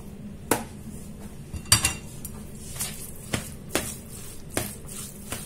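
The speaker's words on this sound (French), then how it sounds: "maintenant je vais mélanger" Cooked leftover rice with mushrooms stirred in a pan with a utensil: a series of sharp scraping clinks against the pan at irregular intervals, close and fairly quiet, with no talking.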